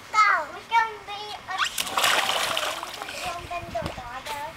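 Children splash into backyard pool water amid a loud, sustained burst of splashing, with excited kid voices calling out before and around it.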